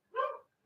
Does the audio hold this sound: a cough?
no